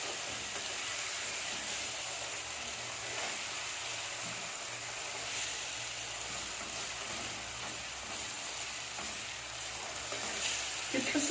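Onion fries in a pan with a constant, even hiss of sizzling that holds steady for the whole stretch, with no distinct stirring strokes and no talk.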